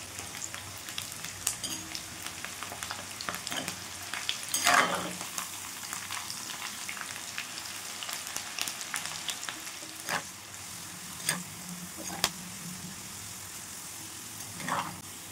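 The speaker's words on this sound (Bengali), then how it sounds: "গরম তেলে বেশ মুচমুচে করে ভেজে তুলব এই ঢ্যাঁড়সগুলো।" Batter-coated okra frying crisply in hot oil, a steady close sizzle and crackle with occasional louder spits and stirring clinks, heard alone.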